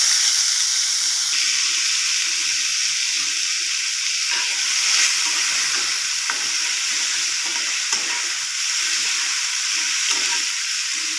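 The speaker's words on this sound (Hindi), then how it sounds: "एबे आमे सेथिरे आलू को दे भाजी नेबा" Potatoes fry in a pan of hot oil with a steady, close, bright sizzle that continues without a break and without voices.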